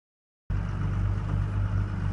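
A vehicle driving up a road while hauling a round hay bale without a tractor, a close, steady low engine drone that starts abruptly and holds even.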